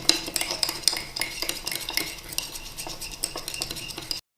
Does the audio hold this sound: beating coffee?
yes